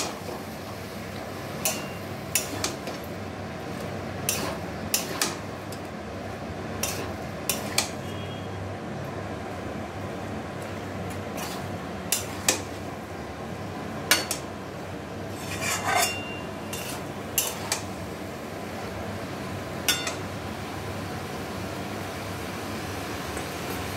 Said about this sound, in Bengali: এঁচোড়ের সাথে মশলাটা ভালোভাবে প্রথমে মাখিয়ে নেব, ভালোভাবে নেড়ে দেব।